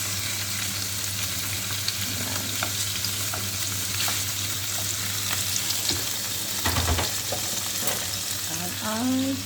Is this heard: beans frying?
yes